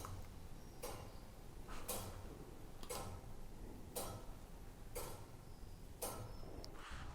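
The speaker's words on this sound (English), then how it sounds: "the stone weight on the right hand side obviously powers the clock" Steady ticking of a weight-driven village clock mechanism in Castle Combe, powered by a stone weight, beating about once per second with sharp regular clicks, close and alone over a low background hum.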